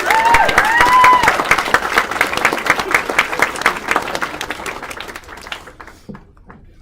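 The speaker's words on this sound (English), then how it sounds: "Let's give him a round of applause, folks." A crowd bursts into loud applause with some cheers, the clapping thinning out and fading away toward the end.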